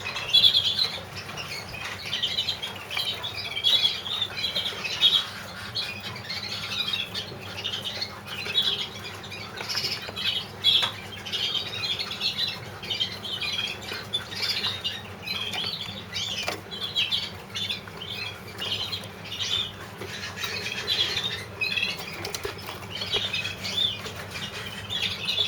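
Birds still in moult, kept in a shaded loft while being prepared for the season, give steady squawks and chirps over repeated bursts of flapping wings, a busy continuous chorus without speech.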